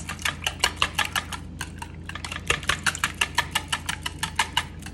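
Breakfast casserole ingredients are stirred in a bowl, with quick rhythmic clinks and scrapes of a utensil against the dish repeating steadily and close by, no talking.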